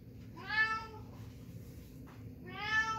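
Two drawn-out meows from a cat in a farm story, one near the start and one near the end, with a quiet steady background between them.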